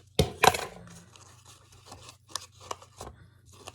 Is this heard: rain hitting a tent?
no